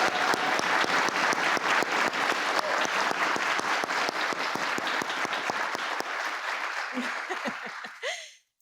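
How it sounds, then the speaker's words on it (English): Sustained audience applause fills the room at a military and veteran children's honoring event, dense and steady, then thins and fades out near the end. "Can we give her another round of applause?"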